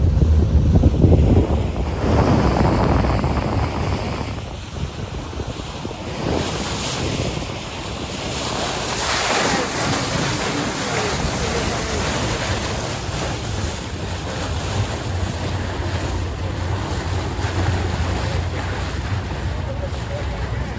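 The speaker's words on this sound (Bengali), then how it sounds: "এখন সমুদ্র কিছুটা উত্তাল" Rough sea waves surge and wash in a continuous roar near Kumira ghat, Chittagong, heard from a speedboat, with strong wind buffeting the microphone and a faint motor hum underneath.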